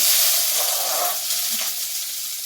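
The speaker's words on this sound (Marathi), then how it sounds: "तर चला आता पटकन मी फोडणीचा भात करून घेते" Phodnicha bhaat, tempered rice, fries in a pan with a steady, close, bright sizzle that eases slightly toward the end, punctuated by faint stirring.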